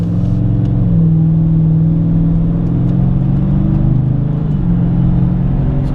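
A 2018 Dodge Challenger 392 Hemi R/T Scat Pack cruising at around 60 mph, its V8 giving a steady, loud low rumble and drone with a slight pitch dip near the end, heard from inside with no talking.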